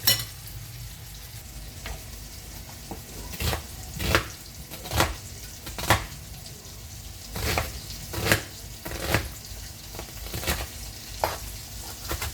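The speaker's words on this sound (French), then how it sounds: "Je vais couper mon oignon." Onion being chopped on a board while meat sizzles in a pan: a steady frying hiss runs throughout, with irregular knife thuds landing every second or so, close and fairly quiet.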